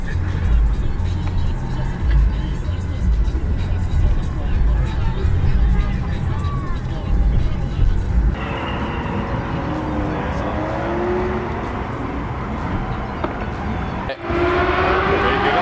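Cars roar and rumble at a drag racing event amid a noisy crowd, with engine noise shifting as vehicles pass and people talking throughout.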